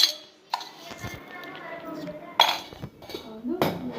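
A spoon clinks and scrapes against a glass while stirring sugar and milk into carrot juice, in several bursts of ringing taps separated by brief pauses.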